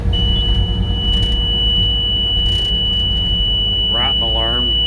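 A steady high electronic beep or tone sounds continuously from an alarm during winter harvest work, over a low engine rumble, with a short burst of voice near the end.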